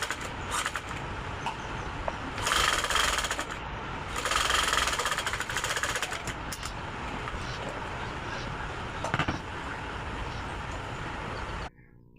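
Electric sewing machine running a double stitch along nighty material, a steady continuous mechanical whir with a few louder bursts where the stitching speeds up, then stopping abruptly near the end.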